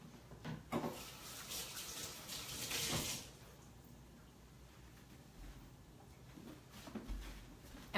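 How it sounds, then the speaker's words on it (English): Tap water runs into a kitchen sink during hand washing, a brief hissing stream for the first three seconds that fades to a quiet room with faint handling noises. "Let me wash my hands real fast."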